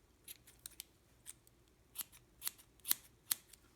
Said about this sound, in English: Now you're just going to give it a little trim. Just cut all those long pieces